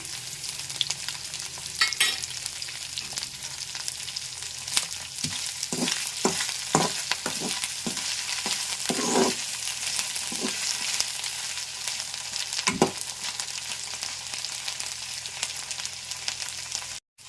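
Garlic and cumin seeds fry in hot oil in a pan, giving a steady close sizzle with repeated scrapes and clinks of stirring throughout and no voices.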